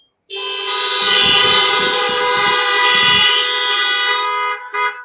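Loud, sustained horn blast held for several seconds, close by, with a brief second toot right after it.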